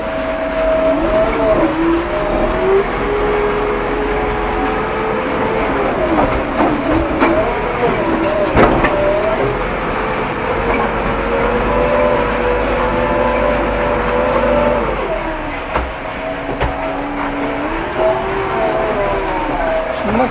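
JCB 3DX Eco Xpert backhoe and a tractor at work loading rocks, with a steady loud diesel engine drone and tyres spinning, the pitch rising and falling as the engine strains throughout.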